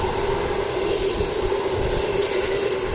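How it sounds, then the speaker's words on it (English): A Jetstar Airbus A320, flight JQ265, an 11-year-old jet registered VH-VGA, rumbles steadily at Wellington Airport, its engine drone holding even throughout with a sustained tonal whine on top and no voices. "This is JQ265. It's an 11-year-old Airbus A320"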